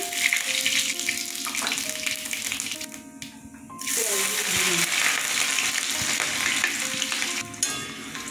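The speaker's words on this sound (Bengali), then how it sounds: "সর্ষের তেল দিচ্ছি, শুকনো লঙ্কা, তেজপাতা দিয়ে দিলাম, জিরে দিয়ে দিলাম" Dry red chillies, bay leaf and cumin sizzle and fry in hot mustard oil, a steady crackling hiss close up with brief stirring, starting the cooking of a potato and papad curry.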